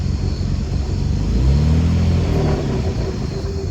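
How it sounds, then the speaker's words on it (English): A car with about 230,000 miles and an oil-burning problem runs up close, its steady engine rumble swelling briefly as the throttle comes off, with a weird rattling thought to come from underneath. "very weird sound, like something rattling. I don't know if that's under the car, a motor, but like when you hit the gas, you don't hear it."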